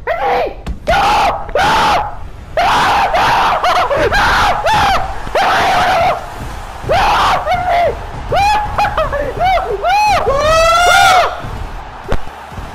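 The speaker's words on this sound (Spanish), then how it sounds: "No para de gritar, yo también gritaría igual" A person screams loudly and excitedly over opening a football video game pack that holds an Icon player, in repeated rising and falling wails with bursts of laughter, continuous and close.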